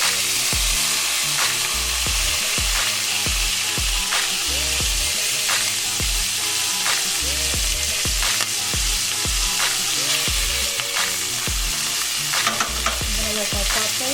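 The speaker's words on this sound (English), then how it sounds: "Let that saute for a little bit." Salmon or other food sautéing in a pan over medium-high heat, with a steady loud sizzle and repeated stirring scrapes and utensil knocks throughout, no voices.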